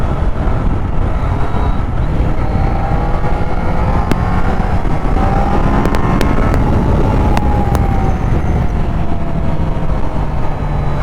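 A Triumph Daytona 660 motorcycle on the move, its engine drone blended with loud, steady wind rush and road roar that stays constant and close without any speech.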